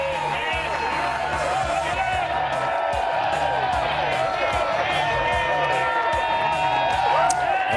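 A golf tournament crowd cheers, whoops and claps in a loud sustained roar that swells slightly toward the end, with babble of many voices throughout.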